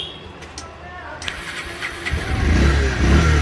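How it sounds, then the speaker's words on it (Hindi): A Bajaj Pulsar 150 BS6 motorcycle with its check engine light on is started with the self-start button. A brief starter whir gives way to a close, steady low engine rumble that grows louder in the second half. "गाड़ी स्टार्ट हो गया है"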